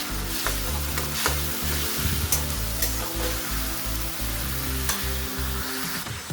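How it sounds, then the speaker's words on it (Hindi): Ground onion paste stirred and fried in a hot pan with hing, a dense, loud, continuous sizzle over a repeating low, rhythmic churning from the stirring, close up with no speech. "फिर प्याज डालेंगे, ग्राइंड किया हुआ प्याज। अब इसे चला लेंगे।"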